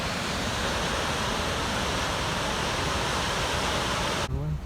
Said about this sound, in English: Anyway, beautiful waterfall.